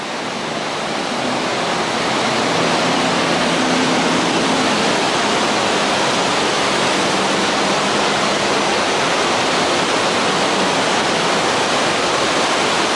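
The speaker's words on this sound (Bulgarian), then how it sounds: "Ето следващата лодка, която се мухва под водопадите." A powerful waterfall roars in a dense, unbroken wash of white noise while a tour boat slips beneath the falling water, with no clear voices over the constant torrent.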